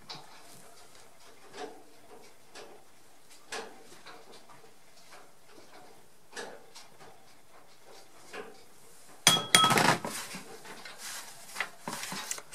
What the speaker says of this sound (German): Ein bisschen Mehl mache ich da rein.